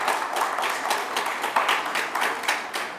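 Steady applause from a business forum audience, dense rhythmic clapping that swells and dips in waves, fairly close and full, with no talk over it.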